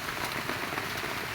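Steady rain pours down on a mountainside with mango trees, a constant close hiss of drops striking leaves and surfaces with no pauses and no voices.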